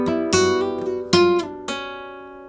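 Flamenco guitar playing a short Soleá phrase of bright plucked notes with pull-offs, a few quick attacks that ring out close and clear, solo with no voices.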